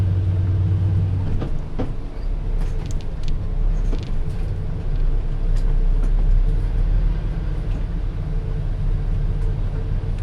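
Heavy truck engine rumbling on a provincial road in Partido, Camarines Sur, a steady low drone with clanks and rattles running throughout, close and loud.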